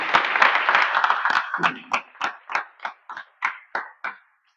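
An audience at a spiritual discourse claps, first as a dense burst of applause and then thinning into about eight separate, evenly spaced claps that fade out.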